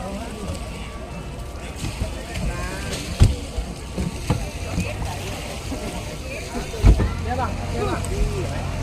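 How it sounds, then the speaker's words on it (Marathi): A speed boat runs across the sea toward Monkey Bay, its engine droning steadily with water slapping against the hull and occasional thumps, while people talk over it throughout. "मंकी बे वर जाण्यासाठी आता आम्ही ह्या स्पीड बोट मध्ये आलेलो आहोत"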